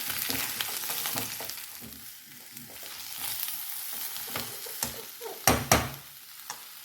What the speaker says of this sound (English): Once the jackfruit has cooled down slightly, fry them, shallow fry them with a bit of mustard oil.